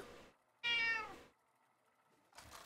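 A pet cat meows loudly close by, one strong drawn-out meow framed by shorter, softer mews before and after, with quiet room tone in between.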